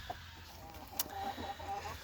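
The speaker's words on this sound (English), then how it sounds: "we've got too many broody hens" Broody hens cluck softly inside a chicken coop, giving a few faint, low calls over a quiet background hum.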